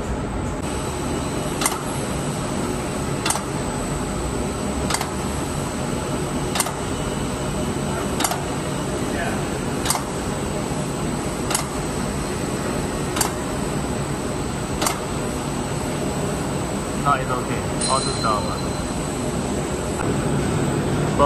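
An HRB five-ply flute laminator runs with a steady mechanical drone and hum, punctuated by sharp, regular clicks about every second and a half, with a brief extra whir near the end.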